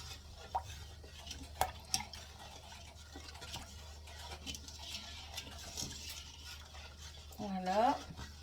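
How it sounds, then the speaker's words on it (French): Jam mixture with special gelling sugar is stirred in a pot, soft scraping and occasional clinks of the spoon against the pan, fairly quiet, ending in a short burst of louder scraping. "On mélange bien tout ça."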